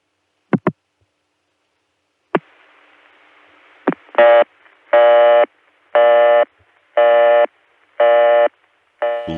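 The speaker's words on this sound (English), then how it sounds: "Looks like we've gotten a busy test." A telephone tandem switch on a 1980 ConTelNet CCSA network returns a busy test tone: a few sharp clicks, then loud buzzy tone bursts repeating about once per second in an even, steady rhythm.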